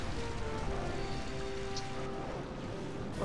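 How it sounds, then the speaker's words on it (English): Steady, even hiss of rain from the Rain Dance move in Pokémon Colosseum, a soft continuous wash with faint game tones ringing underneath. "Starmie uses Rain Dance"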